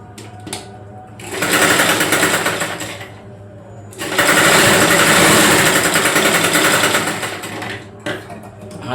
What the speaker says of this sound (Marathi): हे झालं एक शिवला आपण की आपण दुसरा सुद्धा शिवून घ्यायचा.